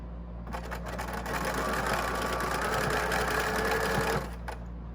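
Sewing machine stitching a stack of quilt block pieces for a churn dash quilt, running steadily for about four seconds with an even mechanical whir over a low motor hum, starting and stopping cleanly.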